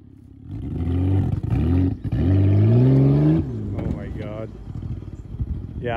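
A Ford Fusion's engine roars at full throttle, rising loud and close in pitch through a couple of surges before dropping away, with people talking over and after it.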